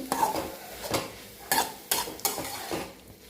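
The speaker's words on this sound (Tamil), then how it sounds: "வேக வச்சுருந்த பூசணிக்காயை நம்ம போட்டு இதில் போட்டு கலக்கி சிம்லேயே வச்சு லைட்டாக கலக்கி" A spoon scrapes and stirs a stir-fry of cooked ash gourd in a pan over low heat, making several separate scraping and clattering strokes with faint sizzling between them, close by and fairly quiet.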